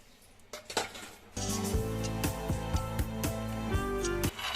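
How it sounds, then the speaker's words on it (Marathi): Peanuts dry-roasting in a pan, stirred constantly, with clinking and scraping of a utensil against the metal pan in quick repeated strokes, close and prominent. "शेंगदाणे भाजून घेऊया।"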